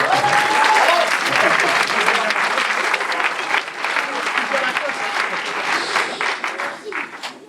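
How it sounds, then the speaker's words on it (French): An audience applauds a clarinettist's solo percussion demonstration at a wind band concert, dense sustained clapping that starts loud and gradually thins and fades toward the end. "Vous pouvez l'applaudir, parce que c'est magnifique"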